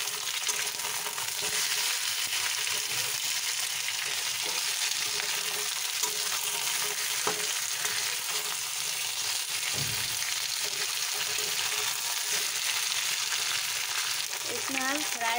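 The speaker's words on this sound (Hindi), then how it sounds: "इसमें हम डाल देंगे चिकन को, इसमें अच्छे से फ्राई करेंगे।" Chicken frying in a pan with golden-browned onions, a steady dense sizzle running throughout with a few stirring knocks, close and fairly loud.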